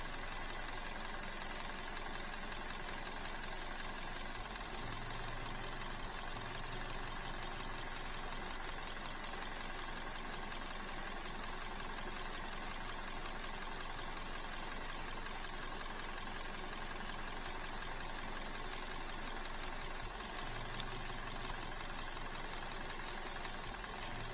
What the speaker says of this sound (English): Just waiting for a misfire here.